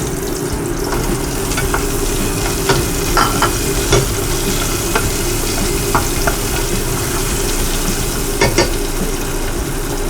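Onion sizzles and fries steadily in a pan while cooking bulalo in a rental kitchen, a loud, close, continuous crackle punctuated by occasional stirring clicks and scrapes, with no talking.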